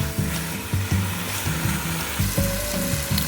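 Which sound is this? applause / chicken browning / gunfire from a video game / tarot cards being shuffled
chicken browning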